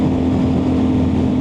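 Aprilia RS660 motorcycle with a loud exhaust, a steady low droning engine note held close and loud with no let-up, no voices present.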